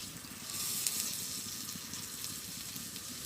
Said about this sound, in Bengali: নিম পাতা ভাজি করার সময় একদম কম আঁচে ভাজি করতে হবে